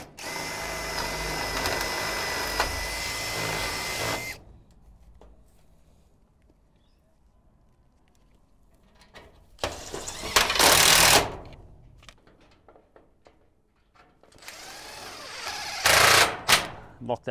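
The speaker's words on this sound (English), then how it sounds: "Just re-drill out your hole." A power drill re-drills holes in an Absco metal bike shed panel, with three loud bursts of whirring and rattling metal separated by quiet pauses.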